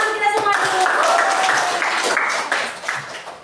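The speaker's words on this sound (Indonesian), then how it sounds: "tepuk tangan untuk kita semua dulu" A classroom of pupils claps together for a few seconds, a dense patter of hands mixed with voices and chatter, fading slightly toward the end.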